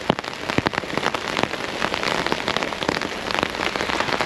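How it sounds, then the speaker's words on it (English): Steady rain patters on a nearby surface beside a camper van, with individual drops pinging sharply over a constant hiss. "It is raining, and this is soon to be snow."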